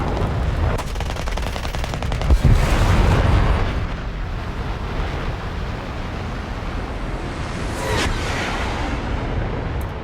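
An F-84G jet attacker in a War Thunder air battle fires its machine guns, a rapid rattling burst early on over a loud, continuous jet engine roar, followed by another short burst later.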